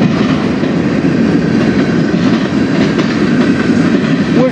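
A freight train rolls past at night in Fostoria, Ohio, a loud, continuous rumble with rhythmic clickety-clack of wheels from fairly close by.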